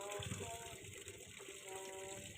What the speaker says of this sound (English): sufficient amount of water coming from the pump